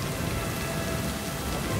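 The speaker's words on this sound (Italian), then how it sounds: "Piove!" Heavy rain pours down in a dense, steady roar of drops hitting surfaces, loud and continuous with a low rumbling undertone like distant thunder.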